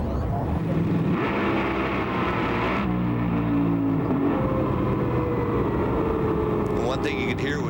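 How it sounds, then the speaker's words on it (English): Onboard engine of a drag racing car during 2005 NHRA Ameriquest Mortgage Company Nationals qualifying, a loud continuous roar whose pitch climbs as the car gets loose outside the groove. "you heard the motor go up as it got loose when he drove the thing just outside the groove"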